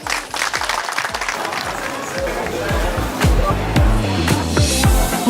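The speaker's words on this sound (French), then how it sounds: "soyez vraiment applaudis à nouveau" Crowd applauding market traders at the inauguration of a new town market in Sucy-en-Brie, a dense run of claps and murmurs building slightly louder toward the end.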